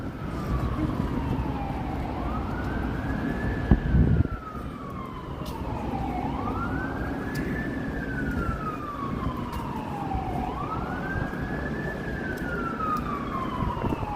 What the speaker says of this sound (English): You can hear more sirens